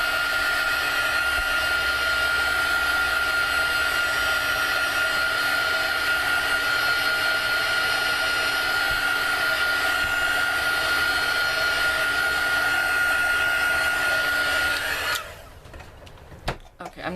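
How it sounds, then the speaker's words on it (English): A heat tool blows a loud, steady whir for about fifteen seconds while drying card stock at a craft table, then cuts off abruptly, leaving quiet handling noises. "use a heat tool."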